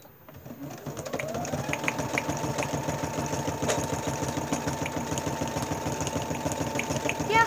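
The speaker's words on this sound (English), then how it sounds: "So let's stitch on the shop ticket." A sewing machine stitching through plastic vinyl shop-ticket material, its needle hammering in a fast steady rhythm with a motor whine that rises and holds, loud and close and running alone.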